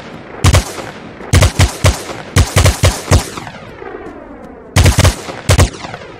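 Gunfire from the blockchain FPS video game Fabwelt's Arsenal rings out in loud, sharp bursts of several rapid shots each, separated by short pauses, with echoing tails between volleys.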